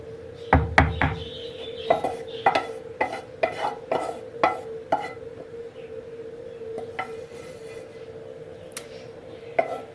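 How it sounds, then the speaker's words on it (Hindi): A spoon stirring mashed roasted brinjal into yogurt in a bowl, with a series of knocks and scrapes against the dish at irregular intervals, fading to quieter handling near the end. "इसको दही में अच्छी तरह से मिक्स करें।"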